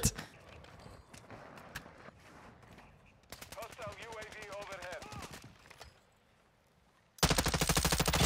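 Video game shotgun gunfire on Ashika Island: rapid repeated shots and clattering bursts, close and loud, with a heavy final volley, mixed with game effects and footstep-like sounds and a voice speaking at moments.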